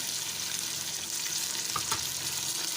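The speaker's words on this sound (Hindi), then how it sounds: "अब मैं इसमें डालूँगी टमाटर और हरी मिर्ची।" Tomatoes and green chillies hit a browned onion, garlic and ginger paste for a beef curry, giving a steady close sizzle throughout with a brief stirring scrape near the end; no one speaks.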